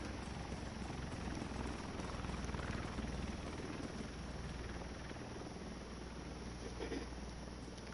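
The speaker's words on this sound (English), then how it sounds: "that's the first helicopter, airplane, whatever I've seen" A helicopter in the video game The Division 2 flies overhead, its continuous rotor thrum and broadband roar steady and fairly loud for the whole stretch, with no talking over it.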